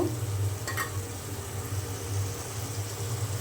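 Spice paste fries in hot oil for a Bengali bottle gourd and shrimp dish, a steady close sizzle with a brief scrape of stirring early on, no voices.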